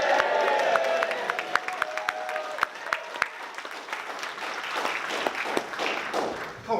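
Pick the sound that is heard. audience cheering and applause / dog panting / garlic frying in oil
audience cheering and applause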